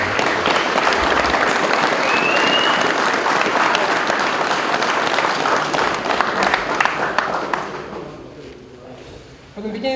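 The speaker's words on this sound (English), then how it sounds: "round of applause for my guys." Loud, dense applause from a crowd of airsoft players at a Copehill Down event, sustained for several seconds before tapering off, with voices mixed in.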